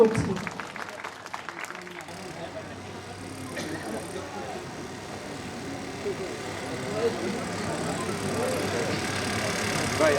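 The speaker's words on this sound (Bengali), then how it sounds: "অনেক জোরে একটা করে করতালি প্রত্যাশা" At a Film Directors Association 40th anniversary award ceremony, the audience claps in a brief burst at the start, which fades into a low hall murmur and background noise.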